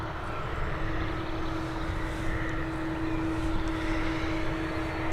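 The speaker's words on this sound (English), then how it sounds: "This looks like it's an ATR 72-600 on its final approach." ATR 72-600 turboprop on final approach to Dublin Airport, a steady droning engine roar with a sustained propeller tone, moderately loud and continuous, no voices.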